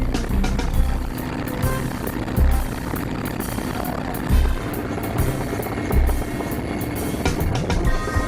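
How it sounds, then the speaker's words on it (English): Sri Lankan Air Force military helicopter rotors thump rhythmically over a loud, constant engine roar, close and unbroken, with regular heavy pulses. "the Sri Lankan Air Force allowing us to actually go in a military helicopter"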